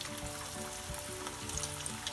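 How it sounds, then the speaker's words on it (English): Potatoes sizzle and crackle in hot oil, a steady dense frying sound with small pops, fairly quiet and continuous. "I'm going to fry these potatoes in this oil until they are golden brown."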